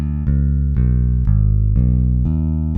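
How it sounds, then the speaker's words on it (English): Ample Bass P Lite sampled Precision-style bass playing a steady line of plucked notes at an even pace, each with a firm attack and deep sustained tone, clean and without extra noise, heard alone. "There you go, a bit more of a pure bass sound."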